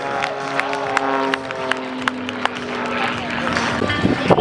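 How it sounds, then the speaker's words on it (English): Crowd at the Hillsboro, Oregon airshow applauding for Nathan Hammond's Allen Super Chipmunk act. Scattered claps and cheers spread out in the open air beneath a steady tone as an announcer's voice carries over the top. "How about a big round of applause so we can hear all the way up and down the line"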